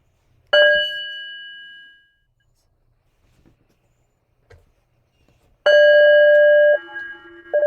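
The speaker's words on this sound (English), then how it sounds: "let us listen to the sound of the bell" Bell rung at an oracle reading: two clear metallic strikes a few seconds apart, each ringing out with a long bright sustain, the second louder and wavering, with near silence between.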